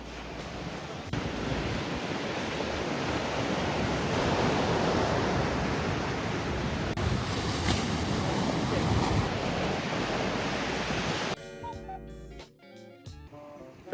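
Ocean waves at Kouri Island, Okinawa, wash and roar continuously up close, with wind buffeting the microphone, before the surf noise cuts off into quieter rustling at the end.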